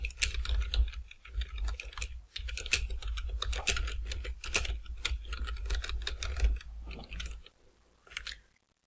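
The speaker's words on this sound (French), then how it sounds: "je tape mon texte" Typing on a computer keyboard while entering text in the GIMP image editor, a close, steady run of quick clicking keystrokes with a few short pauses, ending in a last brief burst.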